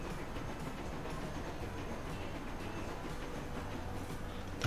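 Electric IC 2000 locomotive and train running on track in the Transport Fever railway simulation game, a steady low rumble with faint wheel clatter and hiss, continuous and even throughout.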